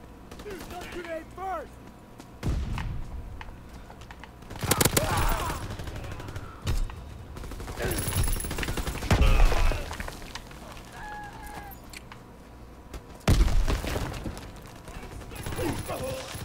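Gunfire in Call of Duty: WWII multiplayer team deathmatch, scattered sharp shots and short bursts at moderate loudness, separated by quieter gaps with someone talking at the start.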